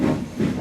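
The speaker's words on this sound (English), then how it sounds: "Gordon wheeshed some steam and pulled out of the station." A steam locomotive lets out a short burst of hissing steam, a brief breathy rush with no voices over it.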